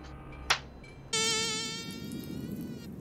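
A mosquito buzzes close and loud, a sustained high whining drone with a wavering pitch that starts after a brief sharp click and holds steady, slowly fading slightly, with no talk.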